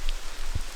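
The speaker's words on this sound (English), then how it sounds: "not good out here when it's raining" Rain patters steadily and softly throughout a brief moment on a wet 4WD trip around Coffs Harbour, with one low thump near the middle.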